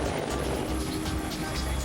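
AH-1 Super Cobra attack helicopter flying, a dense rotor thrum and turbine roar filling the air, loud and steady throughout.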